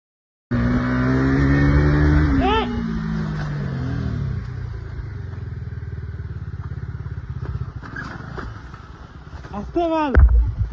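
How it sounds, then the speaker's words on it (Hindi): A sports motorbike speeds along mountain roads, its loud engine droning steadily after a sudden start, pitch rising and dipping through gear changes, with a sharp rev burst near the end. "एक कोई यंगस्टर्स स्पोर्ट्स बाइक पर पहाड़ों में तेज गति से ट्रेवल कर रहा था"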